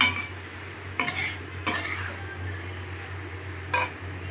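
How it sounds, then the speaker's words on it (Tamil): Chilli parotta mixture being stirred in a pan, with a few distinct scraping strokes over a steady low hum and faint sizzle, no voices. "சேர்த்து நல்லா கலந்து விட்டுறலாம்."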